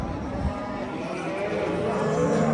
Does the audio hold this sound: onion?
no